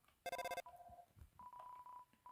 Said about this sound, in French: Le téléphone sonne, mais vous ne pouvez pas décrocher.